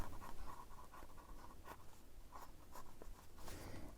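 Marker or chalk strokes on a classroom board during a lesson, a steady run of short scratchy strokes and taps at close range, continuous over a few seconds with no talk.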